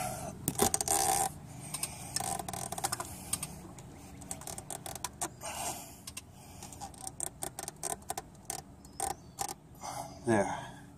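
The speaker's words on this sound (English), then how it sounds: "I'm going to rotate the engine so that camshaft sprocket is at top dead center." A socket wrench turns the engine of an Acura TL (Honda Accord V6) during a timing belt job, giving close, quiet ratcheting clicks in short irregular runs.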